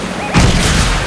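A sudden loud explosion erupts in the Fortnite video game, a heavy booming blast that lands a third of a second in and rolls on as a sustained rumble.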